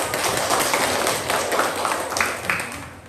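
Clapping from a classroom audience at a school presentation, a steady dense patter of many hands running through the whole moment at an even, moderate level.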